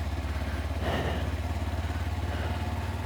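A motorcycle in second gear on a slalom course putters with a steady, pulsing low engine rumble and light clatter, close and constant throughout.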